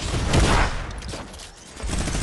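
Minigun fire in a fighting video game, a close, loud burst of rapid shots that trails off and then picks up again near the end.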